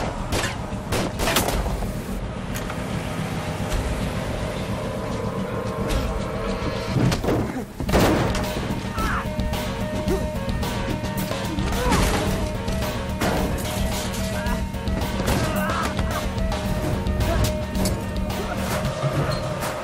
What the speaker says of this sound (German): Es scheint, als wären aus dem Wagen Schüsse abgegeben worden.